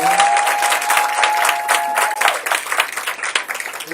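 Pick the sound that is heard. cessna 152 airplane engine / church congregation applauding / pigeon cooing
church congregation applauding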